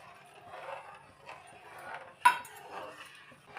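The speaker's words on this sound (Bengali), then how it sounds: "এবার আস্তে আস্তে কর্নফ্লাওয়ারটা দিচ্ছি, আর অনবরত নাড়তে হবে।" Cornflour is stirred into chicken soup in a pot, giving faint, soft scraping and swirling with light clinks of the spoon against the pot and one sharper clink.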